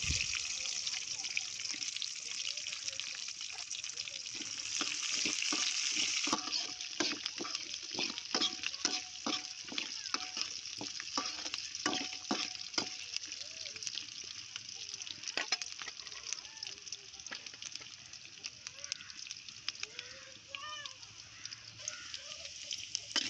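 Onions tossed into hot oil for a village-style chutney, frying with a steady, close sizzle and crackle that runs throughout, with stirring scrapes and faint talk underneath.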